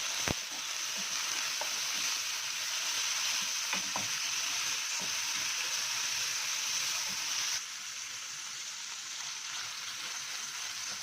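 Squid legs fry in a pan before shrimp go in, giving a steady close sizzle with occasional stirring clicks and taps; the hiss drops a little toward the end and no one speaks.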